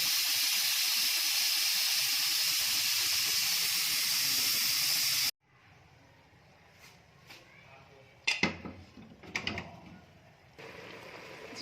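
A pressure cooker holding cabbage and beef curry lets out a loud, steady hissing steam whistle for about five seconds. The whistle then stops abruptly, leaving quieter kitchen clatter and a few sharp knocks.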